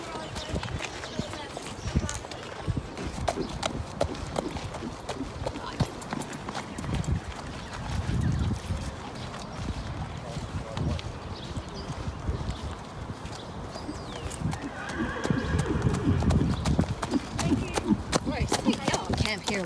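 Horse hooves clip-clop steadily with a brief whinny at the stables of an equestrian competition, while people talk nearby and background bustle swells toward the end.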